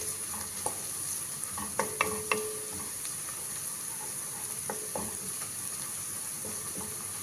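Food fried in a pan until brown while being stirred, a quiet steady sizzle broken by a few sharp spoon clinks and scrapes against the metal.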